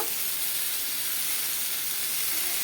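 Ginger paste sizzles in a hot pan with an even, close, hissing rush that stays constant for a couple of seconds.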